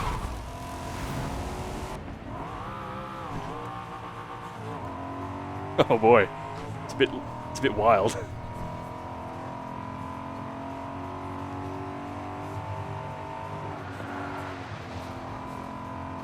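Corvette engine in Forza Horizon 5, driven with an H-pattern manual shift, hums steadily with rising and falling revs and a few brief louder bursts, under someone talking.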